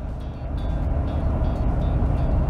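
Ford F-250 with the 6.7L Powerstroke diesel cruising in eighth gear under 2000 RPM while towing, a steady, loud low drone with a faint turbo whine riding on top, continuous throughout with no talk.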